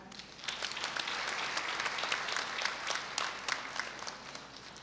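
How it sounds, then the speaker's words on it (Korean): Steady applause from the audience at a Korean cyber university degree ceremony, thanking the attending guests; a dense, even patter of many hands clapping throughout, moderately loud with no talk over it. "감사의 박수를 부탁드립니다"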